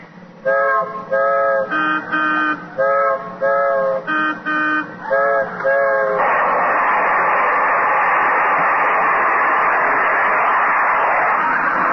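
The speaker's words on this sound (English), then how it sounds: "I'm coming to a railroad crossing. Slow down. I hear the train coming." A harmonic warning tone at a railroad crossing sounds in a rapid series of short bursts, then a loud, continuous rushing roar takes over as the train draws close.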